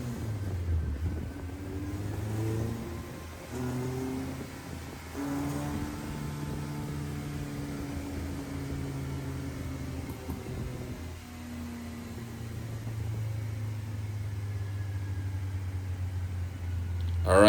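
A car on a dyno with an LT5 factory turn-down muffler idles with a low, steady exhaust rumble, rising briefly in pitch around a couple of light revs before dropping back to a quiet drone.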